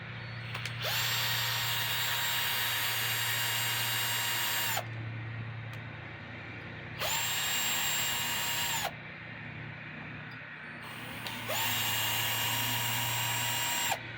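A power tool drives out screws from an RC car transmission in three separate bursts, each a steady whine that rises to a held pitch and then stops. It is close and fairly quiet, with no talk.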